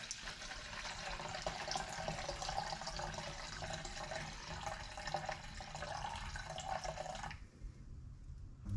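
Mineral spirits pour in a steady, continuous liquid stream into a homemade WD-40 style mixture, a close trickling wash of fluid that stops abruptly near the end, leaving near quiet.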